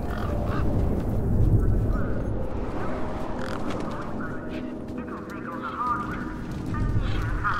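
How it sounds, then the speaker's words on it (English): Honking birds in the desert of the Beyond a Steel Sky video game, goose-like calls rising and overlapping near and far over a low rumbling background, with someone talking at points. "Those birds weren't going to let me anywhere near the back of the truck."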